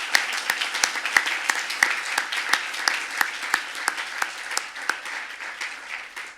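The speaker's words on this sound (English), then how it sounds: "some applause to all of you, and as well to the community" Applause from a small conference audience for a panel, a sparse patter of hands with distinct individual claps standing out in a loose, uneven rhythm, moderately quiet and fading slightly toward the end.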